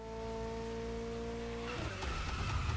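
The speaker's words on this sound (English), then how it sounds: "Ooh, nice drift." Drifting car in The Crew Motorfest driving game at a festival drift track: a steady engine drone that breaks into rough tire skidding and revving over the last second, loud and close.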